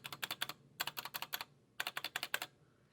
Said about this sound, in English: And now I'm gonna press the spacebar, and I'm gonna do the ends first and then the center.